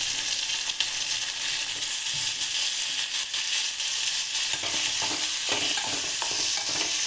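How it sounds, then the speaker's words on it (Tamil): Tomato and mint sautéing in a pan, with ginger and garlic already fried in: a steady, close, hissing sizzle that fills the whole stretch, with faint stirring scrapes near the end and no speech. "புதினா தக்காளி நல்லா வதங்கட்டும்."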